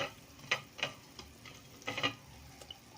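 Moringa leaves go into a pot of simmering beef soup, with soft, faint clinks and stirring noises in a few uneven bursts over a quiet background.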